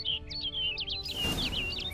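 Bird chirping in the video game The Witcher 3: Wild Hunt, Blood and Wine, a run of quick bright tweets over a low steady hum, followed by a rush of noise as it flies off.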